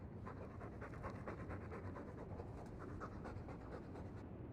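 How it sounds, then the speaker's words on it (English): A dog pants steadily in quick, even breaths, close and continuous, with no talking over it. "All that noisy dog breath, day in, day out."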